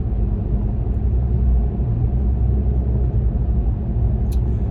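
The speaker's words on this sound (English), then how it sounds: "I'm helping a little with the brake because I want to make sure it downshifts" A GMC AT4X pickup climbs and descends curvy Rocky Mountain roads near Estes Park. Its engine gives a steady low rumble with road noise, loud and continuous, while it downshifts under braking.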